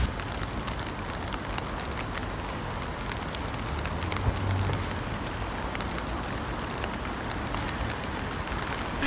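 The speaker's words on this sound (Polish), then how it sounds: "zaczęło nagle tak lać, zerwała się taka ulewa i burza" A sudden heavy downpour during a storm in Kyoto: a steady, dense hiss of rain with no breaks, fairly faint, and no voices.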